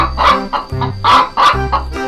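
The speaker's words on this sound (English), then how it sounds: "Chicken." A chicken clucks in a quick run of several loud, close clucks with a steady rhythm and no voices.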